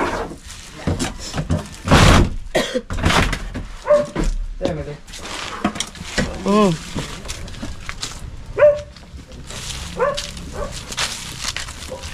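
A dog barks and whimpers several times nearby amid scraping and clatter, with people talking over it.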